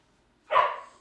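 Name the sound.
dogs barking and running, husky and Jack Russell boxer mix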